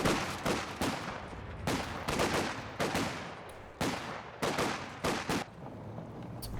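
Machine gun fire in the Company of Heroes 2 strategy game: repeated short bursts of sharp gunshots crackle at an uneven rhythm, fairly loud and close, with brief gaps between volleys and no talking.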